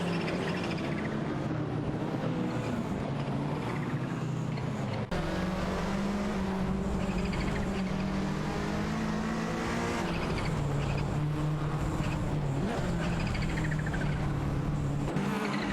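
An Alfa Romeo 75 and a Porsche 944 Turbo battling for position in a racing video game, engines droning and revving steadily through gear changes, close and loud, with one abrupt cut partway through.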